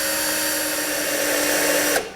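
A power drill bores into a wooden birdhouse board, a loud, steady high-pitched whine held close for about two seconds before cutting off abruptly.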